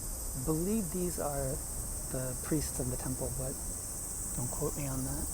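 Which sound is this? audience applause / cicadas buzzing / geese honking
cicadas buzzing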